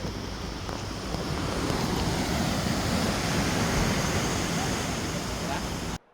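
Sea waves roar in a steady, loud wash of surf mixed with heavy wind buffeting the microphone, cutting off abruptly.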